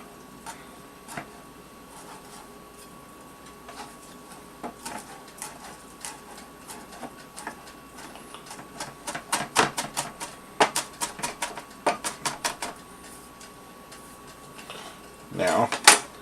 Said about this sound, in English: you're going to want to chop these up.